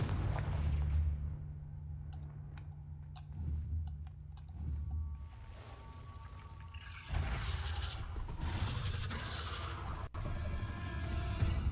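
Repeated Confringo explosive spells in Hogwarts Legacy, heavy thudding blasts and rumbling bursts at a moderate level, with a denser crackling barrage in the second half and a sharp cutoff near the end.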